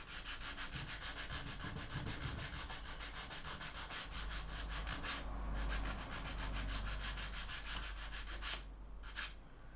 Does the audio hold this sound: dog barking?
no